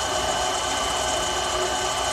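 Metal lathe driving a cutter forward into a workpiece, a dense, steady mechanical whir and grinding drone that holds at an even loud level throughout.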